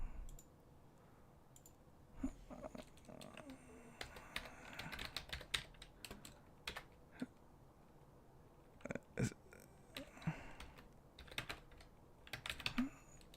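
Someone types on a computer keyboard during a StarCraft 2 session, with irregular bursts of soft, close key clicks separated by short pauses, quiet and without talk.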